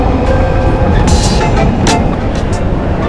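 A train rumbles loudly nearby with a steady roar and occasional high metallic squeals and hisses, no talking audible.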